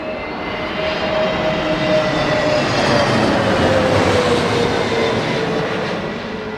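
Airbus A220 jet at London Heathrow, engines roaring loud and steady with a slowly gliding whine, the broad rumble swelling and easing as it passes nearby.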